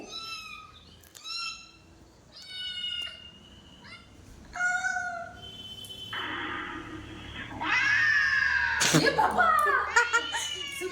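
A small cat meows repeatedly in short, bright, rising calls, fairly close, while people talk and laugh around it, with a louder burst of meowing near the end.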